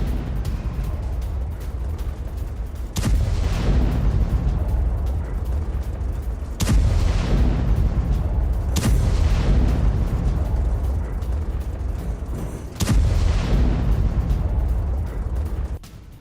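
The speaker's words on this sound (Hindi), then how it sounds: "इजरायली सेना ने कई भीषण धमाके भी किए हैं।" Heavy, continuous rumbling roar from strikes in Khan Younis, Gaza, broken by several sharp blasts that each jolt the loud, dense background, like distant explosions rolling through a city.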